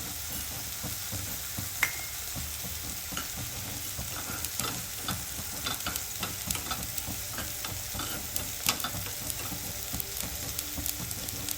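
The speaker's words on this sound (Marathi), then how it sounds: "तीळ भाजून घेऊया." Sesame seeds roasting in a pan while being stirred, a constant dry sizzle and crackle with scraping stirs and small pops, steady and close.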